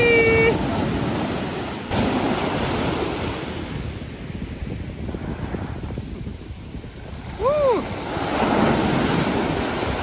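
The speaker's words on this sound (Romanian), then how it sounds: "Îmi părea că e vânt de dimineață" Morning wind and waves by the sea where boats and kayaks are out, with continuous surf washing and wind buffeting the microphone, swelling and easing over several seconds.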